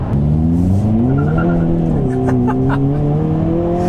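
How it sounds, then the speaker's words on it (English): A loud 2022 Hyundai Kona N engine revs and rises in pitch, with sharp popping and crackling bursts from the exhaust breaking through near the end. "this crazy popping and crackling engine"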